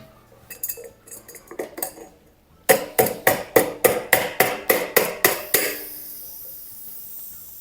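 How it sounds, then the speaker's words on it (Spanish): A rubber mallet strikes a metal beer keg to open it, a run of about eleven loud, evenly spaced hollow knocks after some lighter clinks and taps, ending with a faint hiss. "haremos lo mismo con un martillo de goma"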